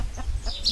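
A chicken on a small farm gives a few short, soft clucks close by, brief and quiet against a low background rumble.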